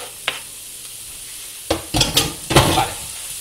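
Celery, onion and garlic frying in a pan for a Bolognese macaroni dish, a soft steady sizzle broken by a few close scraping stirs of a utensil against the pan.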